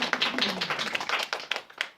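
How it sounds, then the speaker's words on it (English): A small group at a training evening claps for district managers, with scattered, uneven hand claps close by, moderately loud and irregular in rhythm, thinning out over two seconds. "I think that deserves a clap actually"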